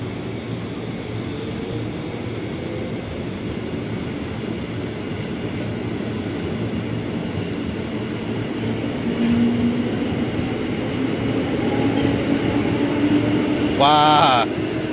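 KRL commuter electric train departing Manggarai station in Jakarta, a steady low rumble and hum of the moving train with a rising whine, voices talking nearby, and a brief chime-like tone near the end.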